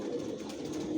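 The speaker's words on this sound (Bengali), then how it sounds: "ভিউয়ার্স দেখতে পাচ্ছেন এখানে সব অ্যাডাল্ট কবুতর" Adult Johnson-line long-distance racing pigeons coo softly in a loft, a low steady murmur under faint background noise, with no talk.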